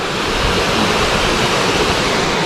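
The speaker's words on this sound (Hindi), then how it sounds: "सबसे ज़्यादा पानी की आवाज़ तो इसी की आ रही है।" Mandwa waterfall in Bastar, Chhattisgarh, a steady, loud roar of rushing, falling water close by, continuous and unbroken throughout with no voices.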